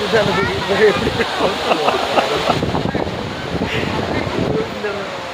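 Steady roaring rush of falling water fills the clip, broad and continuous, with people talking over it.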